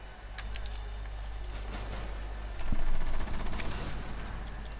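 Gunfire at a window in a French multiplayer sniper-team game, a steady crackle of distant shots over constant low rumble, swelling louder for a burst in the middle before easing back.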